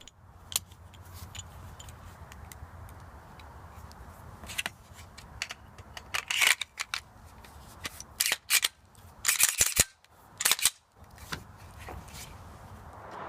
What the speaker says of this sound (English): Now it's just time to take this pistol out and shoot it.